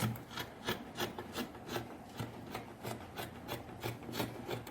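Scissors cut through fabric for a batwing kaftan in a rapid, even series of close rasping snips, each stroke regular and fairly quiet, with no voices.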